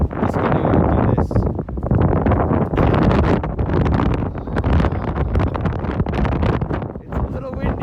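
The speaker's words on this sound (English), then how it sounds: "It's a little windy." Strong gusting wind on a blustery day in Iceland, buffeting loudly and continuously close to the microphone with rough roaring swells throughout.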